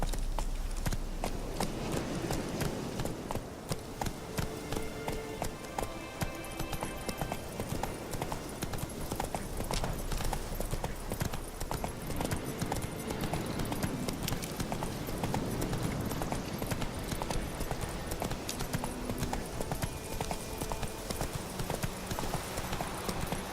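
Roach the horse from The Witcher 3 gallops with steady, loud clip-clop hoofbeats that carry through the whole stretch, a constant rhythmic pounding over a busy game soundscape.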